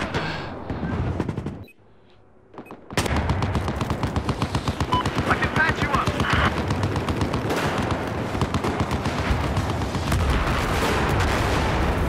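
Video game gunfire roars in a dense, continuous automatic burst, loud and close, starting up again after a brief near-silent gap and hammering steadily for several seconds.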